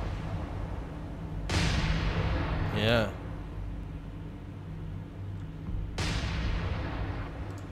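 Naval gunfire in the War on the Sea PAC PT boat game, two heavy booming rumbles a few seconds apart over a constant engine-like drone, with a brief spoken word in between.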